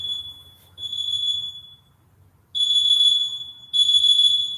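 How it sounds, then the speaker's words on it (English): High-pitched electronic alarm beeping in a room, sounding in long shrill bursts separated by short gaps, clear and fairly loud with no talking. "is there an alarm?"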